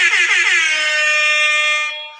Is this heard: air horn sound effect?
yes